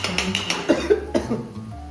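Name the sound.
cough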